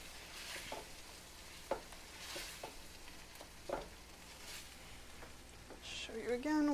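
Butter foams and sizzles in a pan around seared scallops, a steady, moderate crackle with scattered pops and a few utensil clicks, building louder toward the end.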